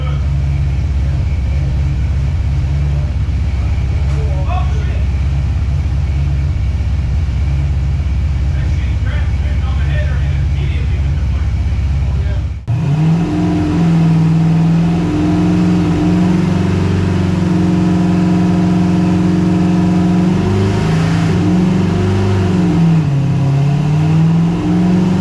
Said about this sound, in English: then we're going to start the car up and just check it and see where we're at